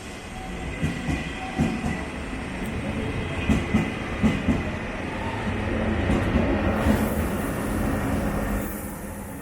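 A train rolls along with a steady rumble and rhythmic clickety-clack of wheels over rail joints, heard from nearby, with a hiss rising toward the end.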